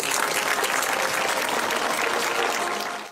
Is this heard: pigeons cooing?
no